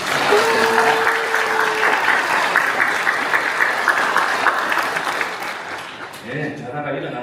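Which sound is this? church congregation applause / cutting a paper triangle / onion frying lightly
church congregation applause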